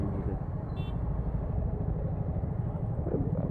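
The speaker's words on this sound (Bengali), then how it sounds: "আওয়াজ করছে মনে হয় ইঞ্জিনে" A motorcycle engine on a ride in Nepal gives off a steady, loud droning rumble with constant road and wind noise throughout.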